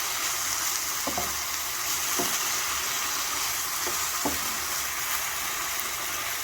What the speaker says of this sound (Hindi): हम इसको जब तक फ्राई करेंगे जब इसका कलर चेंज हो जाए कीमे का